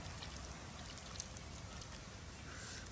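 Tamarind water is poured into a simmering stingray fish curry, making a faint, continuous liquid trickle and splash for a few seconds.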